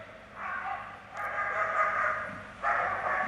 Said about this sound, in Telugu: German shepherd dog female tracker విభాగానికి చెందినటువంటి డాగ్